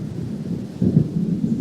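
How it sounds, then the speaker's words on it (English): Low rumbling thunder from an approaching storm in the video game Alan Wake, a steady deep roll that swells louder about halfway through and keeps grumbling to the end, with no voices. "It seems there's a storm coming."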